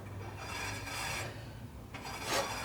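A spinning disc rubs against a table saw's miter gauge, giving a steady dry rasping scrape that swells in two or three broad passes, close and moderately loud over a low motor hum.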